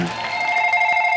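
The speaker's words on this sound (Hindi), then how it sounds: "मेरा फोन है।" A telephone rings with a steady, loud electronic bell tone that holds for over a second, with faint room noise underneath.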